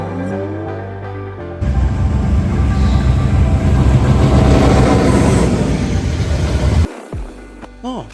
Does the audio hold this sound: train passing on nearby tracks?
yes